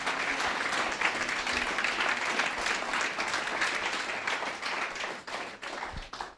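A church congregation applauds Jesus in a dense, sustained burst of many hands clapping together, loud and full at first before gradually thinning and fading toward the end.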